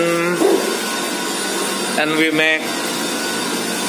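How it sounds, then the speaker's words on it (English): A CNC machine mills a PCB with a steady mechanical whine and hum, and someone speaks briefly over the machine noise. "You can see the PCB made from the CNC. Can see here the machine still operating."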